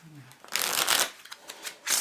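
A Les Printemps playing card deck from Dan and Dave, an Expert Playing Card Company print, being handled and shuffled up close, with crisp riffling bursts and flutters of cards in short quick runs.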